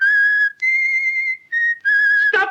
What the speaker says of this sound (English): Stop that infernal whistling